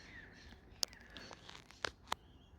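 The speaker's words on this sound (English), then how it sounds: "Can you hear all of the birds?" Crows cawing outside a cottage on a rainy day, a few sharp calls spaced out over faint background ambience.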